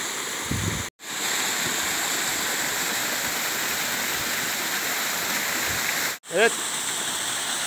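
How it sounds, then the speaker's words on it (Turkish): A waterfall at Değirmenağzı roars as a steady, dense wash of broadband noise, close and continuous, with two brief cuts and a short spoken word near the end. "Şelalemiz burası."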